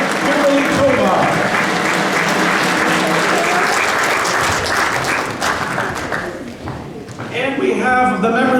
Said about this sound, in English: Let's give them a nice round of applause as they process in the Board of Apportionment and Taxation.